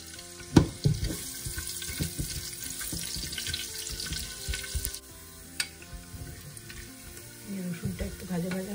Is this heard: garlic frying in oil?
yes